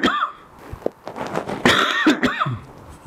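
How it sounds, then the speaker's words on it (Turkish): A person coughs several times close to the microphone for a smartwatch cough test on a Huawei Watch 4 Pro, sharp bursts with brief throat sounds between them. "Şu anda öksüreceğim."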